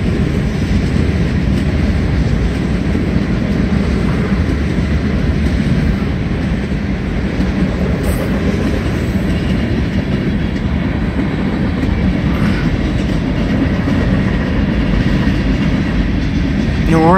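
A New Orleans Public Belt Railroad train passes close by, a loud continuous rumble with clickety-clack of wheels on rail and steady rolling noise throughout.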